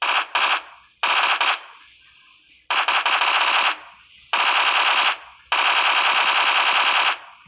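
Automatic gunfire from the PUBG Mobile battle royale game, fired in loud sustained bursts of rapid shots, five bursts separated by short pauses, close and without talk.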